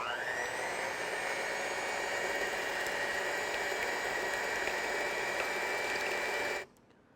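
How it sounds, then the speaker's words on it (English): Eggs with vanilla and sugar beaten by an electric mixer, a steady loud motor whine holding constant for about six and a half seconds before cutting off abruptly. "To this I'm going to add sugar and let's start whisking it."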